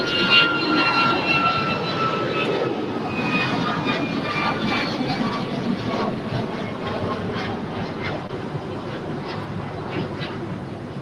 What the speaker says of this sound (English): we've got an Alaska 737 MAX 9 on our way to Honolulu, flight 817, rolling down 25